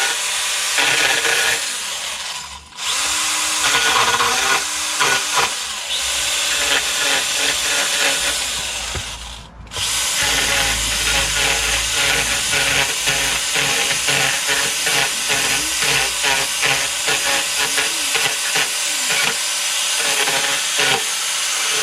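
Small Stihl GTA 26 battery pruning saw cutting into wood while carving a mini bear, a loud continuous buzzing whine with two brief pauses, the motor running steadily near the microphone with no talk.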